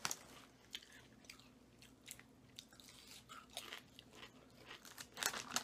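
Close, crisp crunching of Lay's cheesy garlic bread potato chips being chewed, irregular bites and crackles in a quiet room.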